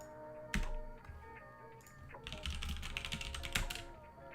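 Typing on a computer keyboard, a quiet scatter of sharp key clicks with a dense burst of rapid keystrokes in the second half, close up and without talk.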